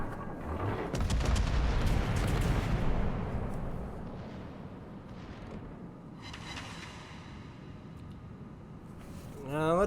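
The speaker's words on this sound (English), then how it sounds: "we're going to see a battleship salvo coming in to kill it" A battleship gun salvo in World of Warships: a loud booming volley at the start that rolls into a long decaying rumble, followed by fainter distant shots.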